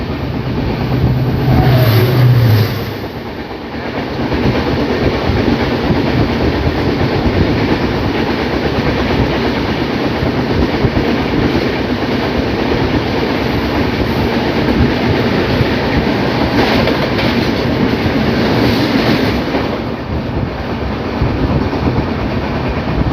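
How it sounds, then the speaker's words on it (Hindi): A speedy train races past during the monsoon on an Indian rail route toward Tirupati, a loud, steady rumble with rapid wheel clatter lasting throughout, with no talking. "मानसूनी स्पीडी ट्रेन पासिंग एक्शन"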